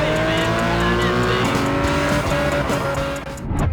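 Racing car engines in a mobile racing game whine and rev loudly with tire squeal, the steady synthetic engine drone shifting pitch until it drops off at the end.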